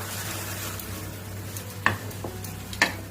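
Shukto, a Bengali vegetable dish cooked with a fish head, is stirred in a pan with raw mustard oil: a faint, quiet sizzle over a low hum, with two sharp spoon-against-pan clinks.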